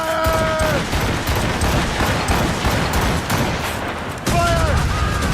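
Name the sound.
volley of gunfire from Assassin's Creed Rogue video game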